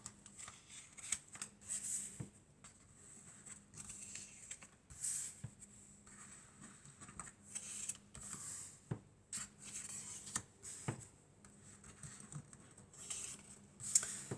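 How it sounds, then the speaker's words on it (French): Oracle cards being shuffled and drawn by hand, a soft papery riffle and slap repeating in quick bursts throughout, close and fairly quiet with no talking. "Alors ensuite, on va prendre quelques cartes et on va voir ce que ça dit."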